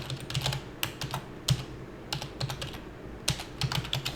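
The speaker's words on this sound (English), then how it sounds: "Type in notepad" Computer keyboard typing into Notepad, heard as quick irregular clusters of sharp key clicks with short pauses between bursts, close and fairly quiet.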